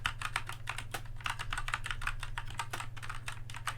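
Steady, rapid typing on a Rii K66 mechanical gaming keyboard, with close, fairly soft key clicks in quick irregular bursts over a low constant hum.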